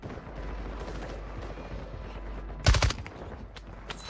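Rapid automatic fire from an MX9 submachine gun in the mobile shooter Warzone Mobile, a loud close burst cracking out amid a busy game soundscape, with lighter shots and effects scattered around it.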